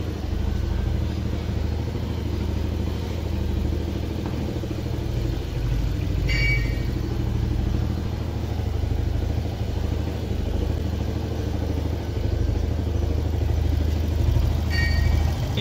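A motorcycle running on an LPG conversion kit idles steadily at close range, a continuous low rumble with a faint, even engine beat and a couple of brief light rattles.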